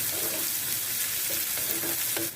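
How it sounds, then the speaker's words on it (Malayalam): Garlic and finely chopped onion sautéing in a pan for chicken tikka, a loud constant frying hiss close up, with a few light spoon scrapes and clinks, no voices. "ഒരു സവാള നല്ല പൊടിയായിട്ട് അരിഞ്ഞതും കൂടെ ചേർത്ത് കൊടുത്ത് വഴറ്റിയെടുക്കണം"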